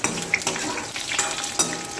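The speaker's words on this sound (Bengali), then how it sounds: "বড়িগুলো ভেজে নিই এক এক করে সব ভেজে নিই" Lentil dumplings (bori) frying in a pan make a dense, close crackling sizzle, with brief stirring knocks and scrapes over the steady hiss.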